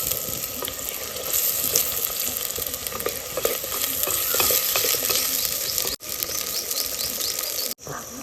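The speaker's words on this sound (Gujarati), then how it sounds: "ટમેટા પણ નાખી દઈશું।" Chopped tomatoes go into a hot pan for Gujarati panchratna dal and are stirred. The sizzle and frying crackle is loud and steady, and a spoon scrapes and rattles the pan throughout.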